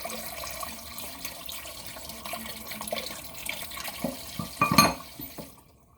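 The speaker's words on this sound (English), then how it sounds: "Gonna rinse it off." Water runs from a kitchen tap while something is rinsed under it during brownie baking, a steady moderate hiss with a few louder splashes near the end before it cuts off.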